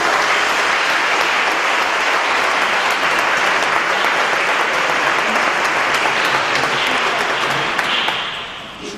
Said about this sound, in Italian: Accogliamo gli amici del coro con un bel applauso.